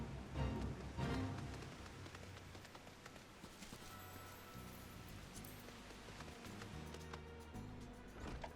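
Steady rain patters throughout a Final Fantasy XIV game scene, with low rumbling game sounds and occasional hoof-like clops beneath it, moderately loud and continuous without speech.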